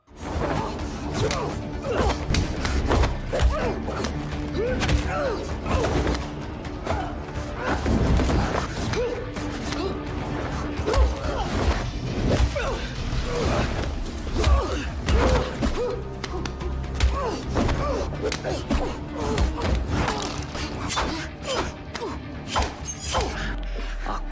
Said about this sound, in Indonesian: berduel dengan Peros menggunakan tangan kosong